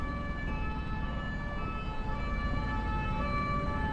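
A French police car siren in the Euro Truck Simulator 2 driving game wails steadily and fairly loud over the constant low rumble of a truck on the road, with no talking.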